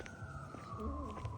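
A police car siren wails on a street with several police around, a steady tone drifting slowly lower, moderately loud over ambient noise, with a faint voice partly audible.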